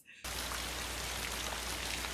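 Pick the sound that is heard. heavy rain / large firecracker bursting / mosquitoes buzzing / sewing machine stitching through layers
heavy rain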